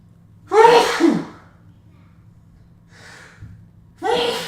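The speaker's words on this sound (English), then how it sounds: "I'm almost a sure thing to get a sneeze in per break" A loud close sneeze with a sharp gasping lead-in, followed by a faint breath and then a second sneeze-like burst, set against a low background hum.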